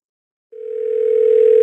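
A telephone dial tone starts abruptly after a brief silence and holds as one steady, loud, unbroken hum, heard alone and up close when the line is picked up to call a number.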